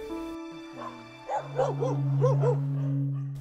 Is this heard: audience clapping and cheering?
no